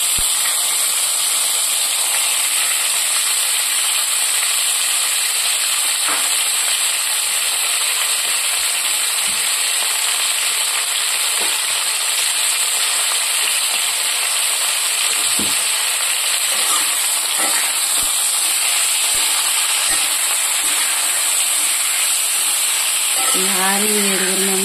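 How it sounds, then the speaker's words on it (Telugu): Green chillies frying in oil over a low flame, a steady, close broadband sizzle that carries on evenly throughout with small stirring clicks and no talking. "దానిలో ఈ పచ్చిమిరపకాయలని మనం అన్నీ కూడా వేయించుకోవాలండి"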